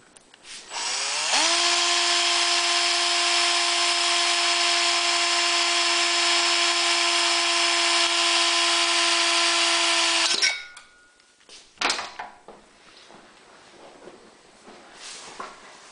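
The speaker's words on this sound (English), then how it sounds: "and I'm going to drill a hole." A power drill with a 1/8-inch bit whines at a steady high pitch for about nine seconds, drilling a mounting hole on a Honda EU3000iS generator, then stops, followed by a few clicks and handling noises.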